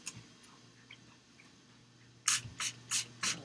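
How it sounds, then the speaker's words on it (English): A small spray bottle mists water onto watercolor paints with four quick hissing squirts in a row, close and crisp after a near-silent stretch with faint ticks. "Use my little spray water there."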